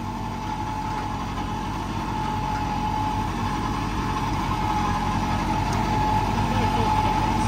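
A tractor pulls a superseeder sowing wheat in second gear over a rice-stubble field, its engine giving a steady, droning hum that stays constant and fairly loud throughout, with no break in the rhythm.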